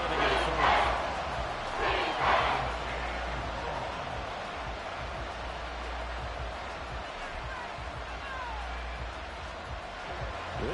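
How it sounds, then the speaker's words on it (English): A stadium crowd in a Madden football video game roars steadily, with a couple of louder swelling shouts early on, then a sustained dense cheer throughout. "This crowd turning up the decibel level."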